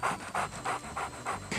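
A huge dog pants in fast, steady, rhythmic breaths, about five even puffs close by, loud and alone with no voices.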